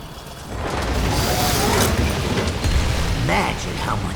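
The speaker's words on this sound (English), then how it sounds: "On your left, Venture's new Mach 78 Black Blood Extractor." Venture's Mach 78 Black Blood Extractor machine in World of Warcraft runs loud and close, a churning mechanical rumble with ratcheting, grinding clanks and creaks that swells and holds.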